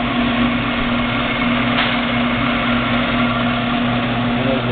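A Rong Fu 9 x 16 inch variable-speed band saw with hydraulic downfeed runs steadily, giving a loud, even motor hum with a constant whine and no talk.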